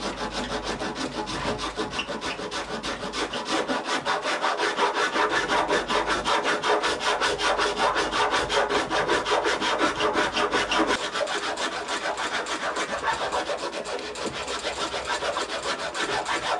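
A saw blade cuts an oak rafter with steady, loud, rasping strokes that repeat evenly and continuously at close range, with no voices.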